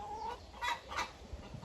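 Black copper Marans rooster clucking close by, with a few short throaty calls bunched in the middle over a quiet farmyard background.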